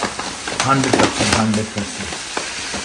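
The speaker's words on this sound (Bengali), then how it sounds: "ওখানে আরেক প্যাকেট ঢেলে দিচ্ছি" A packet of groceries is emptied into a container, a steady rushing, rustling pour close by that runs for a couple of seconds, with a voice talking over it.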